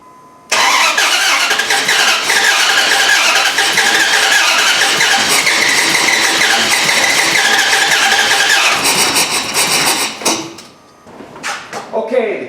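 A Dodge 4.7 engine that had jumped timing and lost oil pressure cranks and fires up, then runs loudly and steadily for several seconds before cutting off, followed by a few brief bumps.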